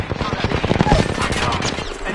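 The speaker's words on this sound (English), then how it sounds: "Listen up, I'm getting shot at." Rapid automatic gunfire in the video game Apex Legends rattles in a dense, loud burst, partly under a player's voice.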